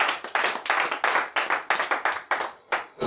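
A church congregation claps for the Lord in a brisk, steady rhythm, with sharp, close hand claps repeating about every quarter second and a brief gap near the end.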